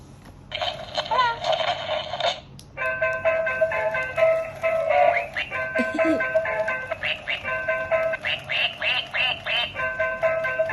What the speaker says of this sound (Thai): เป็ดออกมาเต้นให้ทุกคนดู